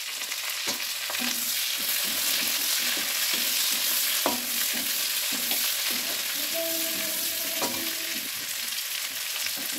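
Sliced onions sizzle steadily in hot oil in a pan for chili chicken, with repeated scraping stirs and clacks of a utensil against the pan. Close and continuous, no talking.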